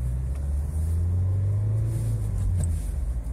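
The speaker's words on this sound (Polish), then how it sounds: "Samochód został ledwo odpalony." A cold car engine, fitted with a start-stop system and only just started, idles with a steady, close, low rumble throughout.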